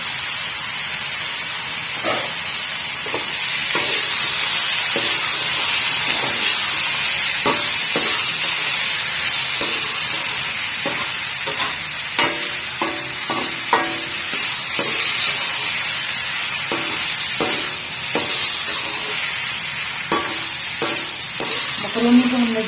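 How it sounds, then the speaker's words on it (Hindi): Boiled macaroni stir-fried in a hot pan for chicken macaroni gives a steady sizzle, broken by repeated scraping and clattering spatula strokes throughout, with little talk. "अब डालेंगे इसमें मकरोनी, ये हमने इसको बॉईल करके रखा था, तो अब इसको हम डालेंगे।"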